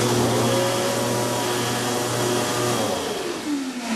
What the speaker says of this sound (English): the vacuum should come on when I turn this on as well